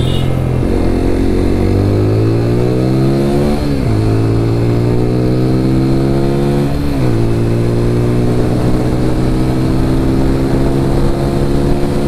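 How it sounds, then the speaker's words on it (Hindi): A TVS Apache RTR 200 4V Race Edition motorcycle revs up through the gears while riding, its loud, close engine note climbing steadily, dipping at two gear shifts and then climbing again without pause. "बहुत रिफाइंड इंजन है यार GS6 का, तो रियली यार बहुत स्मूथ चल रही है बाइक"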